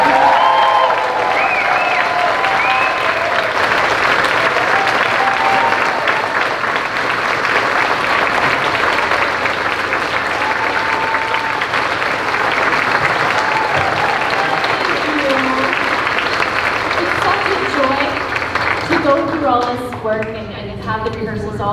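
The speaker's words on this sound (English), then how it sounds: "Please give a big round of applause for the fabulous Chantal Bollier" An audience at a radio station's 21st-anniversary celebration applauds warmly for a performer, the clapping sustained and full while voices and some tonal sound run over it, tapering off near the end.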